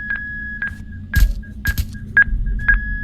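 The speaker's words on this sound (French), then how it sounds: "c'est l'alarme à la sonnerie, c'est à côté." A steady electronic tone sounds in repeated short bursts, interrupted by sharp thuds and impacts, like an alarm ringing amid action in the game Lost Rooms.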